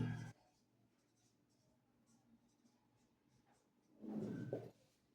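Faint scratching of a pen or marker writing out a triangle's area formula during a maths lesson, soft irregular strokes between louder bursts of a voice at the start and near the end.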